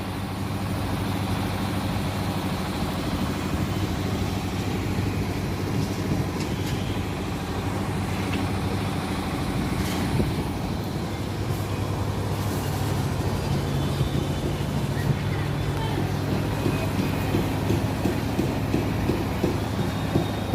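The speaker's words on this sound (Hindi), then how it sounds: "ये सिमरी बख्तियारपुर स्टेशन है," Railway station ambience at Simri Bakhtiyarpur station, with a train's steady loud rumble and idling engine drone running continuously, plus scattered clanks and faint background activity.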